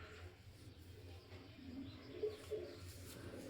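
A domestic pigeon kept by a breeder gives soft, low coos, faint and somewhat distant, over a quiet murmuring background.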